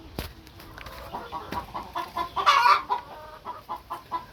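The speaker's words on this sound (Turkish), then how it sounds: "Benim de tavuklarım var." Chickens cluck close by in short, repeated calls, with one louder squawk midway and softer clucks continuing around it.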